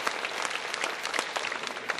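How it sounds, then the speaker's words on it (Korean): A church congregation applauds together after a worship service, a dense, steady clatter of many hands clapping throughout with no talk over it. "우리 한국을 위해서 한번 박수 한번 칩시다"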